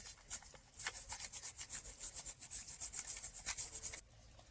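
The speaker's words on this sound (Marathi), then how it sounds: "यांना ब्रशमध्ये चांगल्या घासून घेऊ आपण" Mud crabs full of eggs being scrubbed with a brush to clean off mud: rapid, rhythmic, close-up rasping strokes, repeated steadily for about three seconds and ending abruptly.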